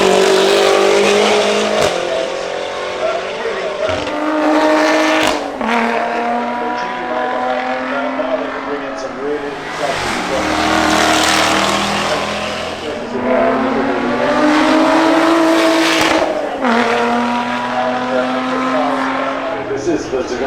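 Race cars at the Goodwood Festival of Speed hill climb, including a 600-horsepower V8, roaring loudly past one after another with rising and falling engine notes, sharp gear changes and bursts of revving, close and continuous.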